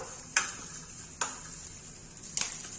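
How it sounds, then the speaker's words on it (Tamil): Coconut pieces fry in ghee for Karthigai paniyaram, giving a faint hiss broken by three sharp crackling pops spaced irregularly, heard close with no talking. "அப்போ நல்லா படப்படன்னு பொரியுது பாருங்க இந்த நெய்யில் நல்லா வதங்கணும்"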